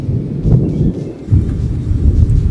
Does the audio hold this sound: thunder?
yes